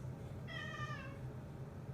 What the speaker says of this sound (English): oh great, my cat